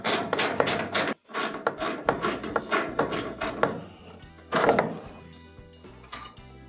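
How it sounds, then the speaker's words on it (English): A technician turns out two small quarter-inch screws from the top panel of a clothes dryer, with close, sharp metallic clicks, taps and scraping driver sounds in a quick irregular series, one brief gap midway. "Twist that screw out and set it to the side."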